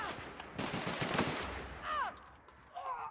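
Rapid automatic gunfire in The Outer Worlds, a dense burst of close, loud shots lasting about a second, followed by brief voices in the game.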